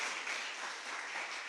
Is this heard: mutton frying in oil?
no